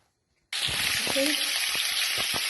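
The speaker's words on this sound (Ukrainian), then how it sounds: "Наливаємо олію у сковорідку." Cooking oil poured into a hot frying pan for minced meat with onion breaks into a loud, steady hiss right after a moment of silence, with a few soft knocks and clinks from the pan.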